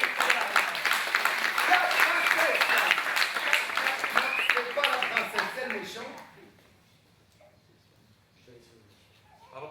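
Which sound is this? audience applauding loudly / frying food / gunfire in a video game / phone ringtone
audience applauding loudly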